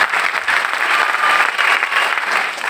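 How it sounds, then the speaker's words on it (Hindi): Audience at a business seminar applauding loudly for Gujarat, a dense steady roar of clapping with no gaps. "मैं चाहूंगा एक बार गुजरात के लिए भी जोरदार ताली बना चाहिए।"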